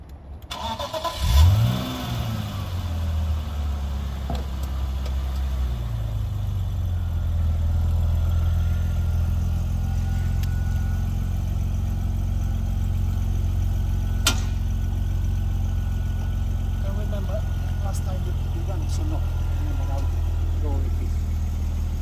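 A car engine cranks and catches close by, rumbling through a brief rev before settling into a steady, low idle that continues throughout on an icy morning.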